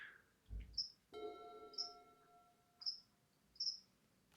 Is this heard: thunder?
no